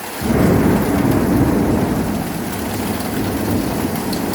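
A loud thunderstorm with a long, rolling rumble of thunder over steady heavy rain, close and continuous with no voices.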